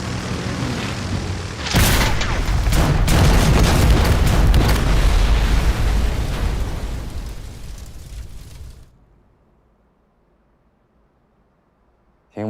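Bombs dropped from aircraft explode in a drama sound effect, with a sudden heavy blast followed by a long rumbling roar that slowly fades into silence before a sharp sound at the very end.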